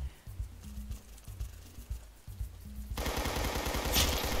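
Rapid automatic gunfire in the Roblox shooter Arsenal: sparse thumping shots at first, then a sudden dense, loud burst of continuous fire from about three seconds on, with no voices.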